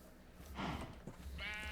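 Sheep bleating in the video game Minecraft, two short wavering bleats a second apart over faint rustling movement, close and moderately quiet.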